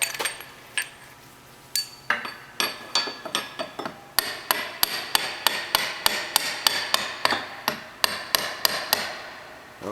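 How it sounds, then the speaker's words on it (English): A hammer taps an axle key into place on a sprocket drive, a series of sharp metallic strikes that start sparse and settle into a steady, close rhythm of roughly two per second. "I think I should give that a little tap with a hammer."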